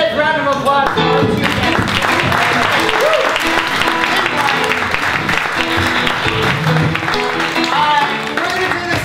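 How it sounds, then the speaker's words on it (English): Audience at an improv theater show on public policy applauds loudly and continuously, with cheering and voices mixed into the sustained clapping. "ladies and gentlemen, a tremendous round of applause for you"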